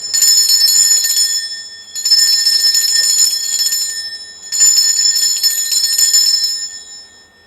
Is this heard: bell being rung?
yes